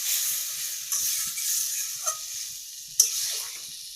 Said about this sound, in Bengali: এবার ভালো করে কষিয়ে আবার একটু নেড়ে নিলাম।